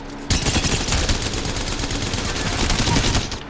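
The Havoc Rifle in Apex Legends opens up after a brief pause in a rapid, continuous automatic stream of close, loud shots that runs to the end.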